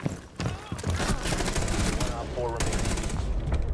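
Rapid automatic gunfire bursts in a shooter video game, dense and loud with overlapping shots, while a player speaks briefly over the action.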